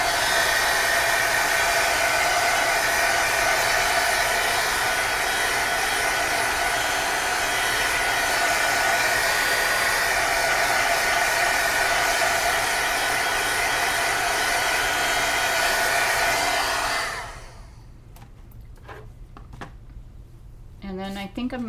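A hair dryer blows steadily on a piece of artwork, a loud even whirring roar for about seventeen seconds before it cuts off, leaving quiet room sound and a few soft handling noises.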